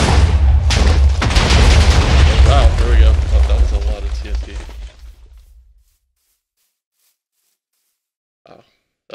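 A TNT cannon goes off in Minecraft, a loud deep blast and rumbling burst of explosions that decays over about five seconds into near silence, with faint clicks afterward.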